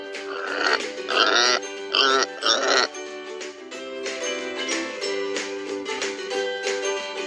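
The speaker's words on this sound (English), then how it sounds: "Pig." Pig grunts and oinks in a cartoon animal-sounds sequence, several loud rough bursts in the first three seconds, followed by steady music-like harmonic tones with no clear animal voice.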